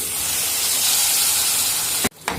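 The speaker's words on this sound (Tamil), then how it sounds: "இப்போ அடுத்தது நம்ம அரைச்சி வச்சிருக்க வெங்காயத்தை நல்லா வதக்கிக்கலாம்" Ground onion paste frying in a pan for onion pickle, sizzling with a steady loud hiss that breaks off abruptly near the end.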